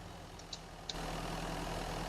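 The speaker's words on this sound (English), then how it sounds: "Turn the engine off." A vehicle engine idles in a survival video game, a steady low rumbling hum that comes up after a couple of faint clicks and holds evenly to the end.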